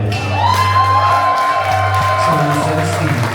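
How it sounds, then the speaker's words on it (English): Wedding reception guests cheer, whoop and clap together in a loud, continuous burst that fills the room, with shouted voices mixed through the crowd noise. "how about a nice round of applause for the parents of our bride"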